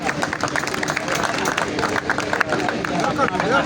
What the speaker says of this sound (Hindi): तालियां है यार